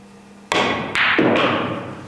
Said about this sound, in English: Try to spin the cue ball 3 rails around the corner.